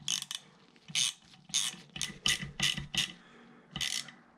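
Screws on a Jeep NAG1 (722.6) transmission valve body being snugged with a ratcheting driver, sounding as a series of short bursts of clicking ratchet strokes, close and fairly loud, with brief pauses between them.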